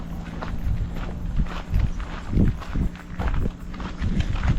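Footsteps on a rough, rocky rural road where a vehicle cannot pass, a steady crunching tread with irregular heavier steps, close and continuous over light wind.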